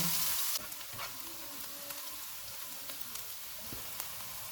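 Chopped garlic and ginger frying in a pan over low to medium heat: a faint, even sizzle that crackles steadily throughout, with a few small pops and no voices.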